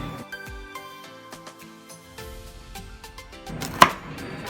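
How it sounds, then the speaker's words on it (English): A knife chops celery steadily on a cutting board, quick crisp knocks in an uneven rhythm, close and fairly quiet, with one sharper louder hit near the end. "I'm going to be chopping up some celery."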